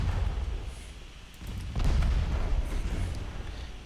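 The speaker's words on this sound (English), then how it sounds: "Oh, there we go. Torpedo explosion." Torpedo explosion in the naval warship game Ultimate Admiral Dreadnoughts: a deep, rumbling boom swells near mid-clip over a steady low roar of battle noise, with no voices.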